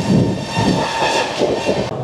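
The Sealdah–Jalpaiguri Road Humsafar Express, hauled by a WAP7 electric locomotive, runs at speed with a loud, continuous rumble and rattle of wheels on rails heard from on board, with no talking.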